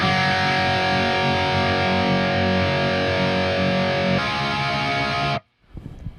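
An electric guitar plays through an EVH 5150 50W EL34 amp with the gain turned up, dry with no reverb, a loud sustained distorted chord ringing close, then cut off abruptly with a short scrape after.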